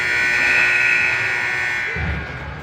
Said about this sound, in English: Maintains puck through the end of the buzzer.